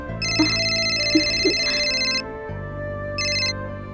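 An unanswered phone rings with a repeating electronic ringtone, two long bursts of bright chiming tones followed by a shorter burst, loud and close with no voices.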